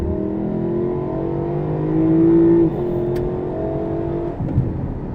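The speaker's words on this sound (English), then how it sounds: "Factory exhaust sounds good." A Lexus LC500 with its factory exhaust in Sport Plus mode, accelerating hard near water, a loud, close engine drone whose pitch climbs, holds and then settles before easing off, with no voices.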